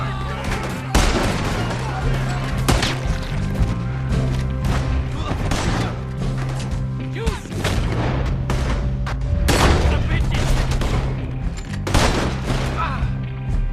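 Shootout gunfire in Red Dead Redemption 2, with loud repeated shots and booming blasts spread across the clip, some in quick bursts, amid game music and occasional voices.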